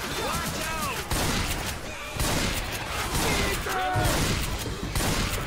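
Shotgun blasts in the zombie shooter Left 4 Dead 2 crack out in several loud bursts amid game clatter, with people talking over the gunfire.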